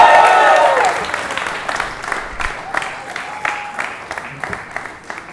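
An audience applauds a comedian walking on at a standup show, a loud burst of clapping that fades over several seconds into scattered claps.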